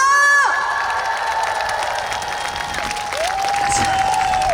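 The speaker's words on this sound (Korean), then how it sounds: "진짜 되신 분들만 박수 한번 함" Crowd at an outdoor event in Hoengseong, Gangwon Province, cheering and clapping loudly with shouts and whoops, following a held tone at the start, continuous dense noise throughout.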